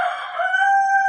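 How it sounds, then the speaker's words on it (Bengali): A rooftop chicken crows once, a loud, close, drawn-out tonal call lasting about a second, with no talk over it. "আমার বাসার ছাদে মুরগিগুলো নয়েজ করছে"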